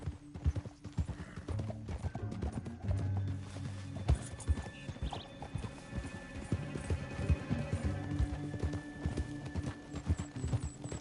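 Horse hooves clip-clop steadily over the ground throughout a video game scene, with an occasional whinny, under a busy game background and no talking.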